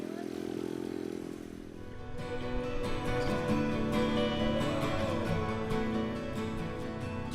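Trail motorcycle carrying two riders off-road over sand and rocks, its engine droning steadily with rising revs and a rough clattering buzz, loud and close, joined by a stronger pulse of throttle partway through.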